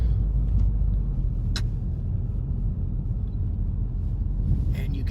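Car driving slowly into a fort along a single-lane path, a steady low engine rumble and road noise close by, with a couple of brief faint clicks and no talking.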